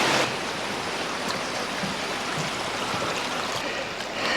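A mountain stream in the Sierra Nevada runs high with snowmelt, a steady full rushing of water heard close and loud throughout, with no voices.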